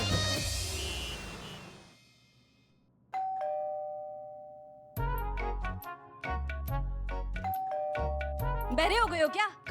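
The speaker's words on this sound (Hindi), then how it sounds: "कब से घंटी बज रही है," A household doorbell rings with ding-dong chimes that repeat several times, and people talk before and between the rings.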